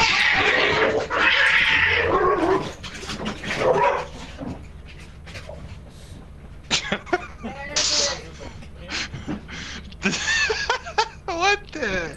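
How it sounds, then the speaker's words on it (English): Cats fighting in the game Lethal Company, with sharp yowls and caterwauling bursts mixed with dog-like barks, loud and chaotic, under and between excited talk. "The fucking cats are fighting."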